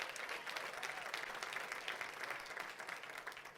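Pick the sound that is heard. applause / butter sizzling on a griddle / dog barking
applause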